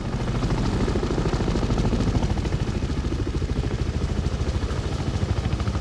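A helicopter drones loudly and steadily over the Gabon jungle, its rotor chopping in a fast, even beat over a low engine roar.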